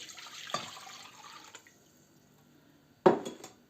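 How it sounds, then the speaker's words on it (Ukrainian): A short run of warm water pouring and splashing into a bowl, then a brief pause and another quick splash of liquid near the microphone. "у миску вливаємо пів літра теплої води"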